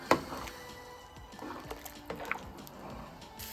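Borscht dressing is stirred in a pot after wine vinegar is added, giving soft, wet squishing and sloshing with a sharper clink at the start, close and steady, without talk.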